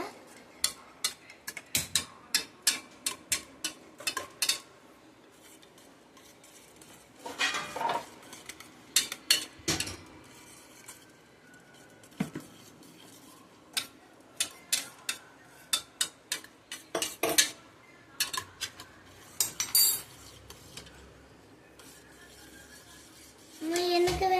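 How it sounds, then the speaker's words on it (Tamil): Eggs are whisked in a bowl for bread egg toast, a fork or spoon clinking sharply against the bowl in quick uneven bursts with short pauses between, close by. "நல்லா கலக்குவோம். நல்லா கலக்கல."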